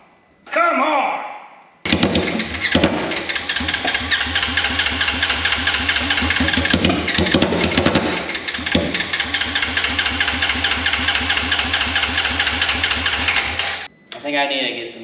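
A RZR engine fitted with a Honda body runs rough on bad fuel injectors, loud and close, with an uneven knocking chug that sputters and dips before cutting out near the end. Short bursts of talk come before and after.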